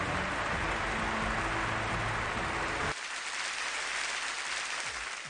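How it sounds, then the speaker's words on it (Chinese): An audience at an Errenzhuan folk-performance contest, elderly division, applauds to send off performers; broad clapping runs for about three seconds, then cuts abruptly to a fainter wash. "掌声欢送一下"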